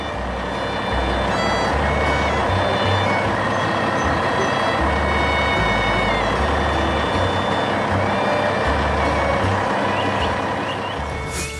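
A red truck hauling a trailer loaded with wood rumbles along through a green plantation, its engine droning steadily with loud, repeated reversing beeps cutting in and out throughout.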